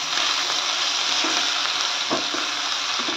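Ginger and green chili sizzle steadily in hot oil in a pan while being stirred for batata vada, a continuous close frying hiss with faint occasional scrapes and no talking.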